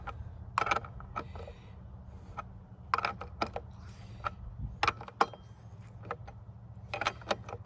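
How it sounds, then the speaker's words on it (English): Metal wrench tightening the nut that holds a Stihl brush knife blade on a trimmer shaft, giving sparse clicks and clanks over a steady low hum, close and fairly quiet. "Then you're going to take the wrench that your tool came with, and you're going to use that to tighten it."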